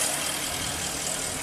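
A Porsche engine with an implausible mass airflow sensor reading idles steadily and close by, a continuous even hum and rumble with no voices.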